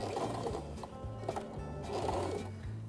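A sewing machine stitching a dart on a garment, with a fast steady mechanical chatter from the needle and a brief change as it reverses at the start, close and continuous under a faint room hum.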